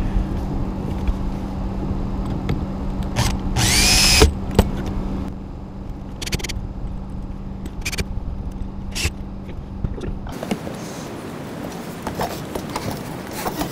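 Power drill driving self-tapping screws while an RV cell booster is installed, short bursts of whirring with a brief higher-pitched screech near the start, among scattered knocks and clatter, then quieter handling noise.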